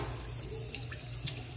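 A restroom faucet runs with a steady splashing hiss of water into a sink, close and continuous with no talking.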